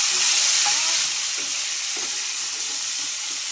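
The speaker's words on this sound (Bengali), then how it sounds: "এবার দিয়ে দেবো ঘষা টমেটো।" Grated tomato hits hot oil in a pan with ginger already cooking, making a loud, close, continuous sizzle that slowly settles to a steady frying hiss, with no talking.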